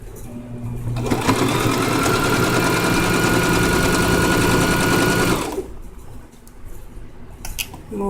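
A sewing machine back stitches a seam on a pencil skirt, running steadily and loudly for about four seconds and then stopping, followed by quiet handling noises.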